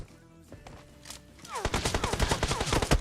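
Rapid gunfire in a video game bursts in halfway through after quieter clicks and tones, becoming a loud, dense run of repeated shots to the end.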